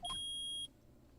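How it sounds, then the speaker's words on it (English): A single sharp electronic beep from the courtroom video game Phoenix Wright: Ace Attorney: one clean, steady high tone lasting about half a second, followed by quiet. "Beep."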